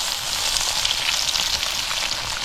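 Fish fries in hot oil with a steady, dense sizzle heard close and continuous, no voices over it.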